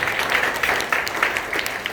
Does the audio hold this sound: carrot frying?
no